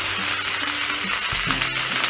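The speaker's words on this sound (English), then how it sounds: "It's sizzling too much." Pork pieces for humba sizzle and spit loudly in hot oil in a pan, a dense steady crackle with a few sharper pops, close and alone with no talk.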